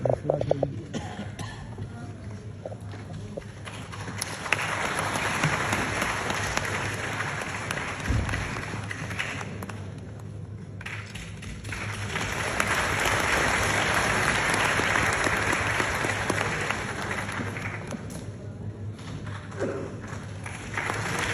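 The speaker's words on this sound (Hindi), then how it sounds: "जोरदार तालियों से स्वागत," Loud sustained applause from an audience welcoming a guest, a government minister, at a formal gathering, swelling in two long waves with a brief dip between them.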